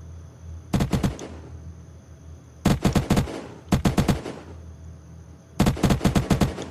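Bursts of rapid automatic gunfire in the video game Unturned, four separate volleys of several quick shots each, loud and crisp with brief pauses between, no talking.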